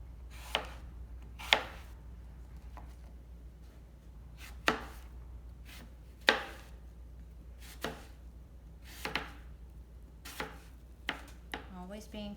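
Knife chopping an apple on a cutting board, about a dozen sharp, separate cuts at an uneven pace, close and fairly loud over a low steady hum.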